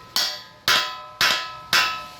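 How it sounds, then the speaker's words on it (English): A hammer drives a seal into a rear bumper on a Jeep Wrangler JK, four sharp, evenly spaced strikes about half a second apart, close and crisp with a short ring after each. "drive it down with your hammer"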